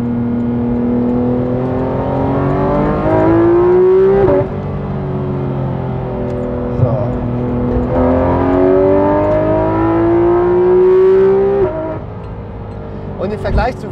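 A Porsche 991.2 GT3 RS pulls hard in second gear with its PDK dual-clutch gearbox, the engine note rising loud and close across two long sweeps with a brief shift-like break between them and a dip at the end.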